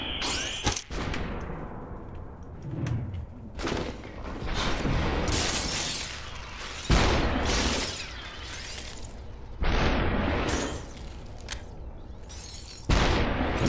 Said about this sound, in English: The glass shattering forced him to drop the weapon